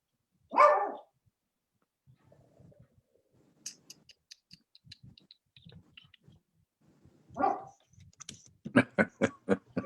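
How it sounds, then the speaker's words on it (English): A dog barks in two bursts, a single loud bark near the start and another about seven seconds later followed by a quick run of sharp, close barks, with faint clicking and rustling between them during a council meeting. "Oh, dog."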